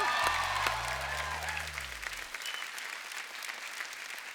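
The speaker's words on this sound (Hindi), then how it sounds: "आप सबकी जोरदार तालियों के बीच प्लीज वेलकम" Studio audience applause on a Hindi comedy talk show welcoming guests, a steady wash of clapping that starts under a loud descending musical tone and carries on alone, fairly even and sustained.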